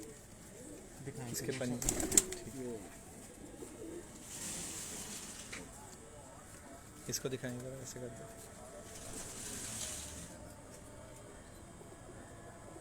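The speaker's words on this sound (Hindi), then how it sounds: "दोस्तों माशाल्लाह शानदार कबूतर" Pigeons coo softly on a rooftop loft in Lahore, low murmuring calls recurring in the background while someone talks close by, with a couple of louder bursts of handling noise or wing flaps.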